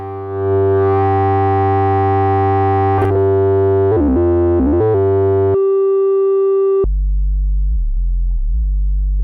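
A loud, steady electronic sine wave drone from an Elta Solar 42F synthesizer holds for several seconds, shifts pitch abruptly a few times, then drops to a lower buzzing tone.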